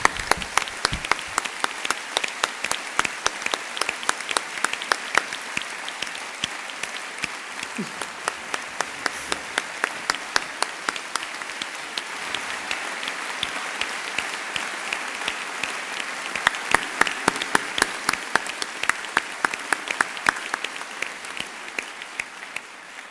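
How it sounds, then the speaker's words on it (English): An audience at the 2013 European Heritage Awards Ceremony in Athens gives sustained applause, a dense crowd of clapping hands swelling and easing, with rhythmic unison clapping emerging near the end. "To all of you, a big applause."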